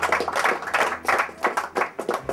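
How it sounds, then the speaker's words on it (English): A group claps for themselves in a round of applause, with uneven, fairly close hand claps and a few voices underneath. "So give yourselves a round of applause."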